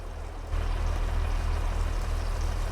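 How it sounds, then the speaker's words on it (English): Fuel pours steadily into a tank in Farming Simulator 22, a constant rushing gush that starts abruptly and continues unbroken. "Can hear the fuel going on in."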